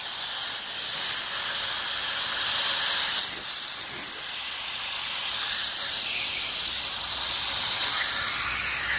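Air hisses steadily and loudly from a tire valve stem with its core removed, on a 2008 Toyota Sienna wheel, a continuous unbroken rush of escaping air with no talking.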